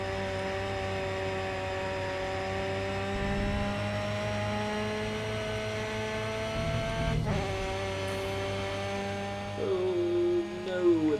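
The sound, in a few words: Ford Sierra touring car engine revving in Grid Autosport video game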